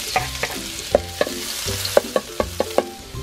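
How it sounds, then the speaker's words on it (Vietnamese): Minced garlic and shallots sizzle in hot oil while a utensil stirs and taps the pan about a dozen times in a loose rhythm, close and clear, without talk. "Sau khi dầu đã nóng, các bạn cho tỏi và hành tím băm còn lại vào."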